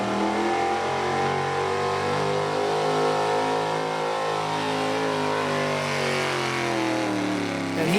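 A big-block 4x4 pulling truck revs hard during a truck pull. The engine holds a loud, sustained roar with its pitch gradually climbing, heard close and alone without talk.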